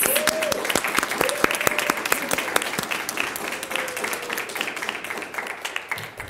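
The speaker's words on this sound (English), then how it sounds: "we're going to start by giving her a big round of applause" An audience at a school board meeting claps in honour of a drama educator, loud close hand claps that gradually thin and fade, with a few faint voices underneath.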